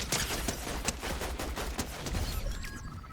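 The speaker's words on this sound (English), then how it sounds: "This is an AI shooting at him." Rapid bursts of gunfire from an AI enemy in a Fortnite Chapter 7 Zero Build match crackle fairly loudly and steadily, dense and continuous for the whole stretch.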